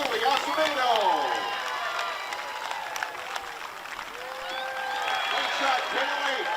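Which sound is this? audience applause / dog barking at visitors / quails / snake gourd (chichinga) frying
audience applause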